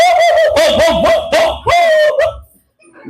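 A human voice imitates a barking, howling dog with a few loud, drawn-out, wavering cries in quick succession, then silence.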